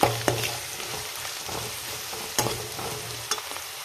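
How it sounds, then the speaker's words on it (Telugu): Tempering ingredients for lemon rice fry in a pan, giving a continuous loud sizzle with occasional spoon scrapes and taps on the pan, close up and without voices. "ఇలా వీటన్నిటిని బాగా ఫ్రై చేసుకోవాలి"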